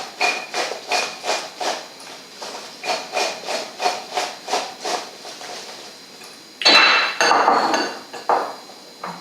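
Salted Brussels sprouts toasting in a pan: a steady, rhythmic metallic clatter repeats about twice a second, then gives way to a louder burst of hissing sizzle near the end.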